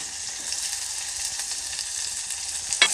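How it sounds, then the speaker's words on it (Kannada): Onions sizzling in hot oil in a pan while making sambar, a steady bright hiss with small crackles and a brief stir near the end, close and without talk. "ಇದನ್ನು ಒಂದು ಸ್ವಲ್ಪ ಫ್ರೈ ಮಾಡಿಕೊಳ್ಳಿ"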